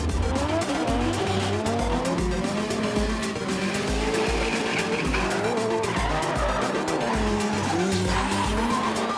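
Cars drifting at an Australian drifting exhibition, tires squealing loudly and continuously with engines roaring and bouncing off the limiter throughout.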